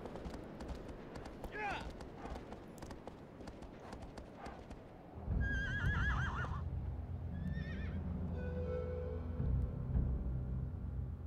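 A frightened horse in the video game Shadow of the Colossus gives several loud, close whinnies, with hoof clops before them and a low rumbling game ambience rising midway.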